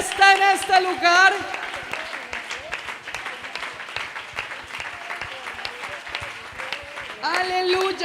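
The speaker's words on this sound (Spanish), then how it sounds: "Dele ese aplauso al Señor," A church congregation at a convention service applauds, a broad steady wash of clapping with a voice speaking loudly over the start and end.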